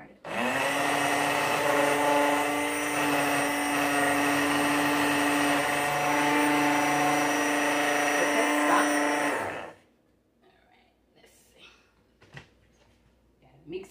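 A kitchen blender whirs loudly and steadily as a grandson makes a smoothie, a constant close motor drone that runs for about nine and a half seconds before cutting off to near quiet with faint small knocks.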